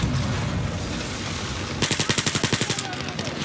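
Rapid automatic gunfire from a gun in Battlefield, a fast even burst of about fifteen loud, close shots following a stretch of muffled game noise.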